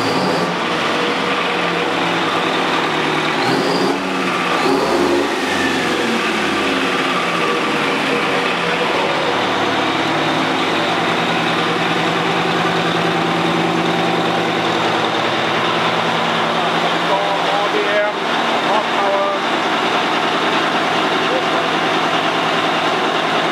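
An engine running on a dynamometer during a test run, a steady loud drone with low harmonic bands that rises in pitch through the middle, heard continuously with some voices in the background.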